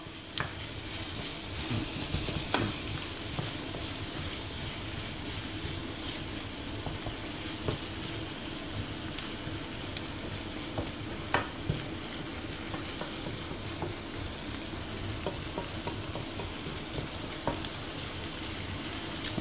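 Pigeon pieces browning in a frying pan, giving a continuous moderate sizzle with scattered small crackles and faint scraping of stirring, without speech.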